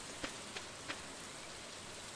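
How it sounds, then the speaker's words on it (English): Steady rain falls in the Stardew Valley video game, a soft continuous hiss with a few faint droplet taps, quiet and even throughout. "It is raining today,"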